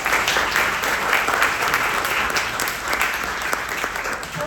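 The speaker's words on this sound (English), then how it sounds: "I would like GANYC to give a rousing round of applause to Jonathan Turner for all his service" A room of members at a January 2023 GANYC membership meeting breaks into a lively round of applause, dense overlapping clapping held at an even, fairly loud level throughout.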